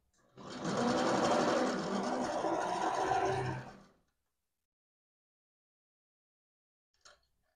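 A domestic sewing machine stitching thick fabric with a large stitch length, a loud continuous mechanical rattle for about three seconds, then silence broken by one faint click.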